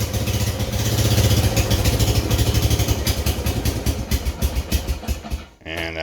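A 2002 Kawasaki Prairie ATV engine runs on choke, a loud, uneven, clattering idle with irregular pulsing that falters and dips briefly near the end.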